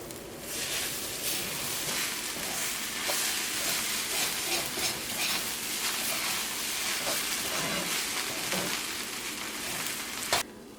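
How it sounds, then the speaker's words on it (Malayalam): Brinjal thoran sizzles loudly and continuously in a pan while being stirred, a dense close hiss with irregular scraping and clatter, ending in a brief knock. "ഇനി ഇതൊന്ന് ഇളക്കിയിട്ട് കൊടുക്കുക."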